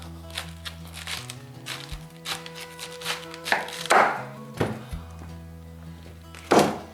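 A knife cuts through a head of cabbage into quarters for sauerkraut, making a series of crisp crunching chops and thunks on a board with irregular spacing, and some louder, sharper cuts toward the end.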